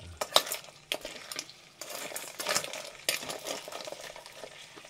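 Live mud crabs are stirred in a pot, with close clattering scrapes and knocks against the metal and a faint sizzle between the strokes, and no talking.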